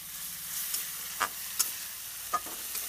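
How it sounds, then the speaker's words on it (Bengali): Tomato masala gravy for a river stingray fish curry being sautéed and stirred in a pan, with a steady low sizzle and a few sharp spoon scrapes spaced apart, close and fairly quiet. "সব উপকরণকে ভালোভাবে কষিয়ে নেব বা ভেজে নেব।"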